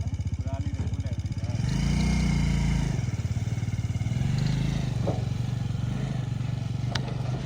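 A motorcycle rides home along a road, its engine a steady close putter that swells twice as the rider speeds up, with some clatter and a few brief knocks.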